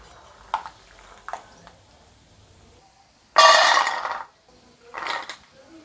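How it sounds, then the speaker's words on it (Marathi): Dal frying in hot oil in a pan for Maharashtrian pani puri chivda, a loud bright sizzle surging for about a second between softer scattered clinks and a second shorter burst of sizzling, close and without talk. "डाळ पण चांगलं तळून घेते"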